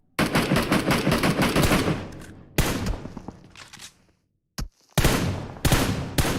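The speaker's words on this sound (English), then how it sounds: "Just shooting through the windows, seeing if you can get a lucky break." Rapid automatic gunfire in PUBG Mobile, fired through windows during a competitive scrim match; dense loud bursts in several runs separated by brief silent gaps, close and punchy.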